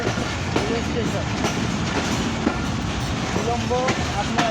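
The Barendra Express rolls into Birampur railway station with a steady rumble of wheels and carriages and faint clatter, while voices talk over the running train.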